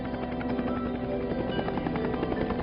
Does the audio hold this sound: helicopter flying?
yes